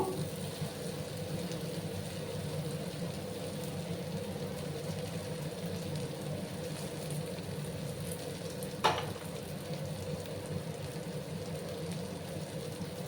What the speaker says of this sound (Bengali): এবার আমি গুড়গুলো দিয়ে দেবো